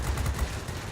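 Bf 110 machine guns firing in a flight combat game, a dense, continuous loud rattle filling the whole second with no speech.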